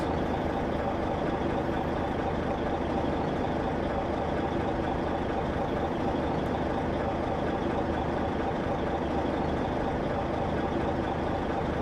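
A truck idles at a traffic light, its engine holding a steady low rumble throughout before being shifted into gear; no voices are heard.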